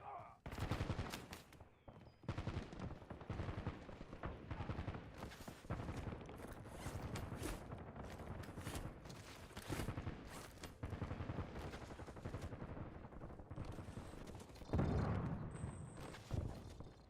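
Video game combat with dense bursts of gunfire and rapid machine gun shots, loud and nearly continuous, broken by a brief lull early on, with a faint voice underneath at times.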